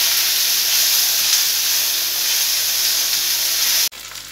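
Onions frying in oil in a home kitchen, a loud continuous hiss and sizzle that runs nearly unchanged before cutting off abruptly near the end.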